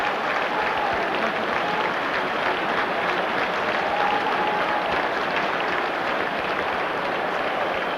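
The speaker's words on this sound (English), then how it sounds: "Sympathetic applause then for Ruud Hullet." Steady, sustained applause from a football stadium crowd at a Milan versus Real Madrid Champions League match, a dense even wash of clapping for an injured player being substituted, continuous throughout.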